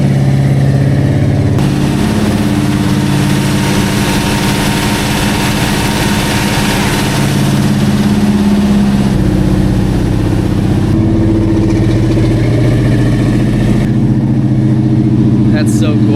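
A Scion FR-S engine runs loud and close with a deep rumbling tone that shifts in pitch and settles into a steady drone, a voice talking over it.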